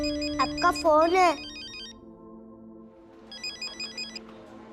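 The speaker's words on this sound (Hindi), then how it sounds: "मम्मी मम्मी, आपका फोन है।" A synthetic melodic ringtone plays in a repeating electronic pattern, stopping briefly and starting again, with a voice speaking over its first part.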